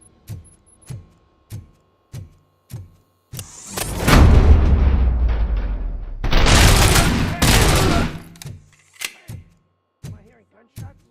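Rapid gunfire in the video game RoboCop: Rogue City comes in regular single shots, then a long roaring burst of sustained automatic fire and booms, ending with more scattered shots.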